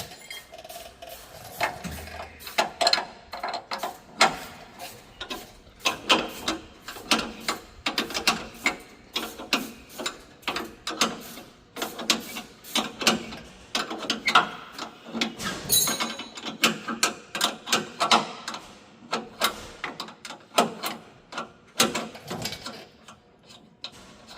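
Wrench tightening a chain after half links are removed, a long run of close, irregular metallic ratcheting clicks and clanks. The clicks come in uneven bursts with no voices.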